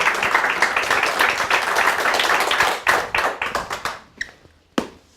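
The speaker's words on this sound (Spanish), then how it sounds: "Démosle un fuerte aplauso a nuestro Señor." Congregation at a church service applauding, brisk clapping from a small group that thins out into a few scattered, separate claps before stopping.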